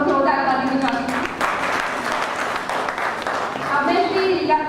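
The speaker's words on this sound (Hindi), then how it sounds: "एक बार फिर से सब लोग जोरदार ताली बजाते हैं।" Audience clapping at a book launch event, a steady burst of applause lasting a few seconds with voices and harmonic speech-like tones over it at the start and end.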